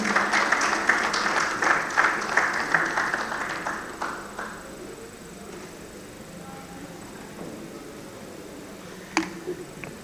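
An audience at a conference on national infrastructure applauds a keynote speaker with a burst of dense clapping that fades out over about four seconds, leaving a quiet hall and one sharp knock near the end.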